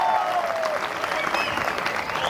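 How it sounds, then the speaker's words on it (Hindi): A comedy night audience in Udaipur gives loud, dense applause in tribute to the late actor Irrfan Khan, continuous clapping with scattered whoops and cheers over it. "एक बार जोरदार तालियां उस कमाल की हस्ती के लिए"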